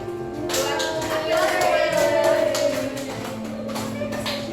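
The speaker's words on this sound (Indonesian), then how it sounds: "Tepuk tangan dulu" A classroom of students claps together after a lesson answer, a dense patter of hand claps mixed with chatter and a teacher's voice.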